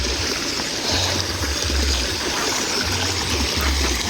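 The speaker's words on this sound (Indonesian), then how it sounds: "di tempat-tempat lain tuh masih kemarau panjang ya, susah dengan air melimpah, tapi di sini Masya Allah, lihat teman-teman," Steady flow of abundant water in a stream running beside wide rice fields, a continuous broadband rush with low gurgling pulses, close and fairly loud throughout, no voices.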